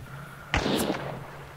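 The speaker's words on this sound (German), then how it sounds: "Auf mich hat es gerade jemand geschossen" A gunshot fired at the player in the video game Hunt: Showdown: one sudden loud crack followed by a rough, fading burst of rumble and noise under a low steady hum, with no talking.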